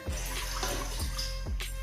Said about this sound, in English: I'll pour 2 cups of water into the pressure cooker